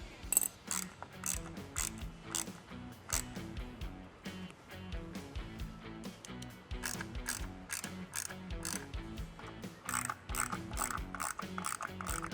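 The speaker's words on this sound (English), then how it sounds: "from the bottom side, we're gonna install the 3 screws and tighten them down with the T25 Torx bit" Three screws being driven with a T25 Torx bit into a rear bed step on the underside of a 2024 fourth-generation Tacoma, heard as a steady run of rapid ratcheting clicks and mechanical whirring, close and continuous throughout.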